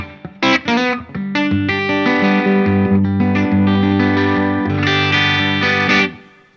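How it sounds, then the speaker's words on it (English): Electric guitar recorded from an amp's XLR outputs through its virtual speaker cabinet into an audio interface, playing sustained chords and picked notes with some effects, loud and close with no talking. "that's the sound of the XLR outs with the speaker cab, the virtual cab, coming out of the XLRs into my interface"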